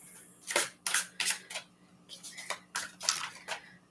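Crisp, rapid riffles and snaps of cards being shuffled, coming in short bursts of about ten quick strokes, close by with a faint low hum underneath.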